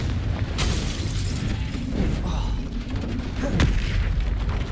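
Explosive spell blast from a wizarding combat game, a booming burst with a sharp crack near the middle over dense, continuous battle noise and music.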